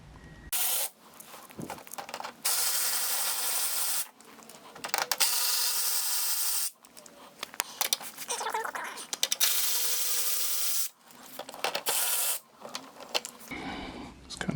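Ratchet wrench spinning out bolts from the bumper of a 2016 Acura TL, in several long bursts of rapid clicking separated by short pauses, close and loud.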